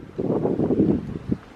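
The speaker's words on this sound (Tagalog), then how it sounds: "At saka ang hangin." Gusty wind blows outdoors on a rainy day near a house with Christmas decorations outside, a steady low rushing roar with buffeting swells and no voices.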